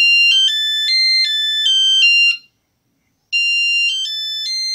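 A Bosch 509 Dual mobile phone from around 2000 plays a bright electronic ringtone melody of short beeping notes, loud and clean, pausing for about a second before the tune starts again.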